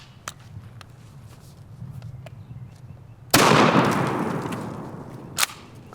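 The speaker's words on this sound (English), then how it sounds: "Let's go ahead and finish it off with a double up buckshot, the way it was intended to be used." A shotgun fires a single double-aught buckshot round: one sharp, loud blast partway through that rings out and decays slowly, preceded by quiet handling clicks and shuffling and followed by a small knock.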